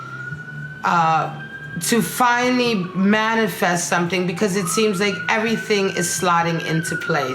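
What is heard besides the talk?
siren in the background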